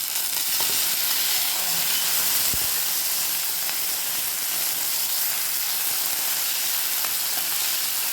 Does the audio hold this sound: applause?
no